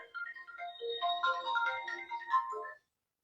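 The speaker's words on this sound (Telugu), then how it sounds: "ఫోన్ వస్తుంది. ఇదో మీ నాన్న ఫోన్ చేసినారు." A phone rings with an incoming call, playing a melodic electronic ringtone of quick rising and falling notes for nearly three seconds before cutting off, fairly soft and with no talk over it.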